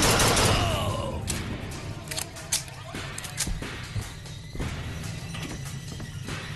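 Pistol gunfire in the video game Bioshock Infinite: a scattered run of sharp, close shots and crashing impacts over a dense rumbling game-battle background, with a loud burst at the start.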